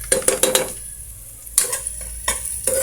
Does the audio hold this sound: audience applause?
no